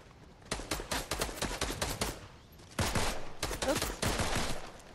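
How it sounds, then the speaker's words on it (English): Video game gunfire comes in fast, rattling bursts: a long stuttering string of shots, a short pause, then two more rapid volleys, all fairly soft and distant-sounding. "Someone's shooting at me."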